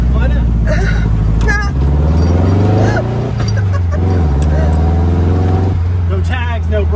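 A 1969 Barris Mini T hot rod drives on a real road, its engine droning steadily and loud up close, with the pitch shifting as it moves, while people talk over it.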